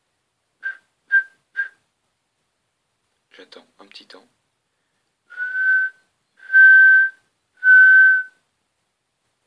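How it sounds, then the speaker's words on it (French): Someone whistles Morse code SOS: three short high whistled pips, a pause filled with faint whispered talk, then three long sustained whistles, close and clear. "on peut donc correspondre en morse à partir d'un sifflement"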